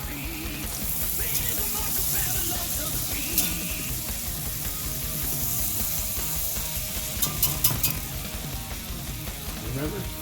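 Meatballs fry in a pan of butter and oil with a steady, loud sizzle and occasional scraping of a utensil, and no voices.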